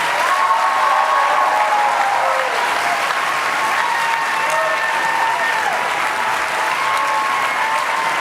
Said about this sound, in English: Now you can applaud for both of them.